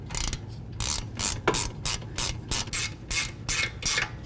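A ratchet clicks in steady repeated bursts, close and fairly loud, while snugging the caliper bracket bolts on a 2014–2017 Infiniti QX50 during a rear brake job, with no talk.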